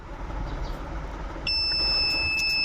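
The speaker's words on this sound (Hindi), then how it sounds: "तो इसमें बीप आएगी।" A digital multimeter in continuity mode beeps while probing a Microtech 16 amp charger circuit board, a sustained high electronic tone switching on midway and holding steady over a low background hum.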